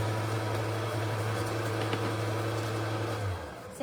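An electric mixer beating oatmeal cake batter hums steadily and loudly for about three seconds, then winds down and cuts off near the end, with no talking over it.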